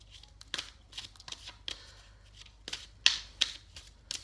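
Fairy oracle cards being shuffled by hand, a quiet close series of quick riffling bursts and soft slaps, irregular and separated by brief pauses, with no talking.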